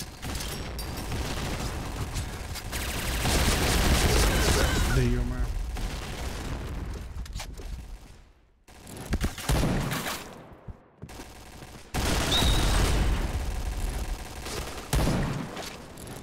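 Bursts of rapid gunfire and explosions from a shooter game, loud and dense, with brief lulls and a voice talking over parts of it.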